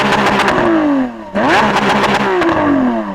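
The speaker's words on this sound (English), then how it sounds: "I'm going to rev up this SVJ" A Lamborghini Aventador SVJ's V12 engine revs twice in quick succession, each loud blip sweeping up sharply and falling away, heard up close with no talk.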